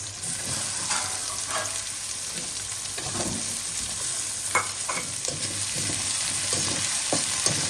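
Onions sizzle and fry steadily in hot oil in a pan for a taro leaf dish, a continuous close crackle punctuated by repeated scraping stirs.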